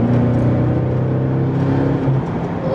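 BMW 650 fitted with a VRSF sports exhaust, revving in sports mode: a loud, close, steady throaty drone with slight rises in pitch, heard alone without talk.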